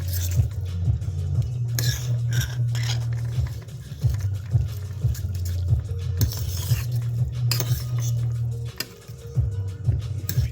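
Spatula scraping and clinking as Nongshim Shin X Jayfai Tom Yum instant noodles are stirred in a pan, a steady low sizzle underneath with irregular metallic taps and scrapes throughout.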